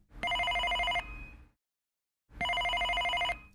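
A telephone bell rings in two loud, clear bursts, each lasting about a second with a brief silent gap between them, and no voices present.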